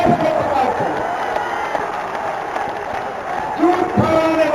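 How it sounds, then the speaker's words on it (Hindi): A large crowd at a political rally in Gazipur applauds and cheers in a continuous, loud roar of clapping and voices that holds steady throughout. "हमें बार तालियां बजाइए"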